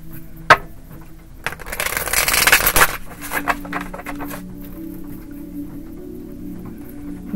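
Tarot cards being shuffled, a sharp tap followed by about a second of brisk riffling and rustling, then faint handling noises settling into quiet.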